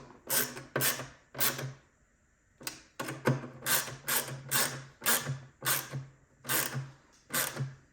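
Bolts being tightened on a Hiwatt DR103 amplifier top, heard as a series of short, sharp ratcheting and clicking bursts in an uneven rhythm, close and fairly loud, with no talk.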